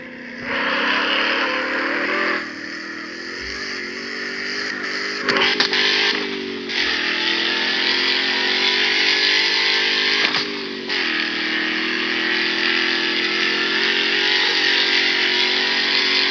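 A Dodge muscle car's engine drones steadily while driving, a loud continuous roar with small shifts in pitch and a few brief dips as the throttle eases.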